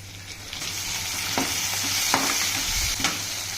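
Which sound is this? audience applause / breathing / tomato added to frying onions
tomato added to frying onions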